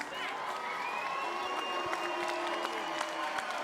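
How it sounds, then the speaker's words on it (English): Crowd cheering and applauding at a 2019 PFL lightweight title fight arena, a steady dense wash of claps and shouts with occasional sharper bursts, continuous throughout. "I would like to thank everybody here that is cheering for me and against me."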